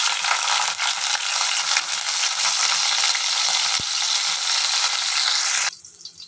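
Curry leaves and small onions hit hot oil for a tempering, bursting into a loud, dense, crackling sizzle that holds steady for several seconds, then abruptly drops away near the end.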